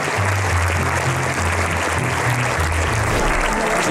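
Cinema audience at the Cannes Film Festival breaks into steady, sustained applause, a dense wash of clapping with faint crowd murmur underneath.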